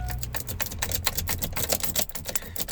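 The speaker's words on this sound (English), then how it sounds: "we're gonna want to continue to rake that ignition over" A pick rakes a GM ignition lock, giving rapid, dense metallic clicking and scraping at close range, continuous and busy for a few seconds.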